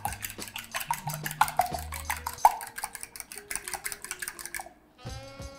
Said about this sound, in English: I have some whole milk and 2 eggs. I'm just quite simply gonna give this a nice little beat